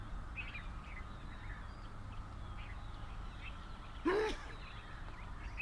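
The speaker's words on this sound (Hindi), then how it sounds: "ओके, नाउ परिंदों की आवाजें सुनिए।" Birds in Ayub National Park, Rawalpindi, chirp faintly in scattered short calls over a steady outdoor hiss. One louder, duck-like call breaks in briefly near the end.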